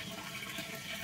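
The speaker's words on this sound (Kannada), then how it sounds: "ಫೈನಲಿ ನೀರು ಬರ್ತದೆ" Water begins running from a tap, a soft steady splashing flow that is faint and continuous for about a second, with no voices.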